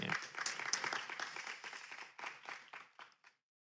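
A church congregation clapping at a sermon, a burst of brisk, fairly close applause that thins out and stops after about three seconds, quiet overall.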